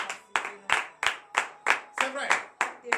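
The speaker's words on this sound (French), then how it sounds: "Que je vous demande d'applaudir très fort." A church congregation at a morning prayer service in Benin claps in unison, about nine sharp, evenly spaced claps ringing out close and loud, with a faint voice murmuring between them.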